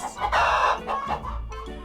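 Chickens cluck loudly up close, a couple of short squawking calls in quick succession.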